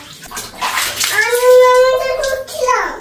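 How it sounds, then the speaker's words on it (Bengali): A child's hands are washed under running water, splashing and rushing close up while a voice speaks over it. "আসো, হাত ধোও ভালো করে।"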